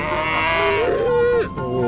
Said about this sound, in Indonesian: Wah, anak sapi gimana bunyinya teman-teman?